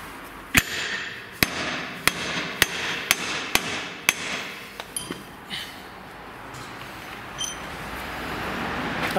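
A hammer strikes a metal suspension wishbone on a Land Rover in a quick, sharp series of about a dozen ringing blows, then falls quiet with only faint background noise.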